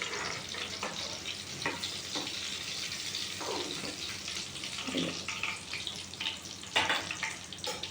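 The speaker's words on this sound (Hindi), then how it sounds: "आधा ही तलने का है, धीमी आंच पे तलने का है।" Karela (bitter gourd) fries in oil over a low flame, a continuous soft sizzle with scattered crackles and occasional stirring scrapes, fairly quiet and close, with no talking.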